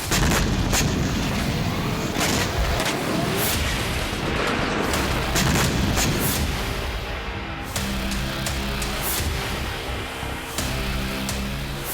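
Israeli strikes on Lebanon: repeated heavy booms and sharp artillery blasts, loud and rapid, one after another with dense rumbling between them, no voices over them.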